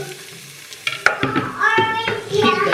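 Three cloves of garlic added to translucent onions sautéing over low heat, a loud close sizzle that flares after a sharp clank and continues under stirring scrapes.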